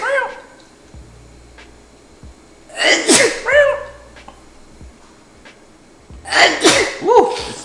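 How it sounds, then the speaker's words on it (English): Two loud, close sneezes a few seconds apart, each a sharp burst with a breathy intake, in an otherwise quiet room with faint background sounds. "Oh, I got sneeze."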